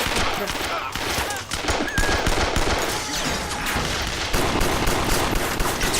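Rapid gunfire from the film Kung Fury, a sustained fusillade of loud bursts layered with music and effects, steady and close for several seconds.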